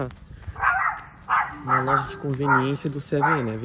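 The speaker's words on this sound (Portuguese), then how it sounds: "Tem um cachorro latindo aqui, um pitbull." A pitbull barks repeatedly at a street corner in Nishio, Japan: several close, loud barks in a rough rhythm, mixed with someone talking over them.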